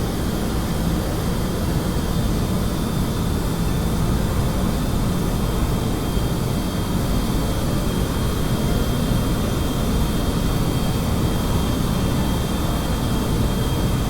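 Ramjet engines on a spaceplane in Kerbal Space Program produce a loud, steady jet roar that holds without a break for the whole stretch, broadband and unchanging in intensity.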